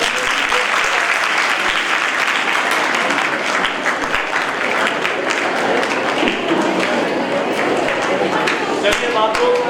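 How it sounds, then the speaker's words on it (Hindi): A college event audience breaks into loud, sustained applause, a dense wash of many hands clapping that continues steadily throughout, with voices faintly mixed in. "नीलम रत्नों के लिए आप जोरदार तालियां बजाइए।"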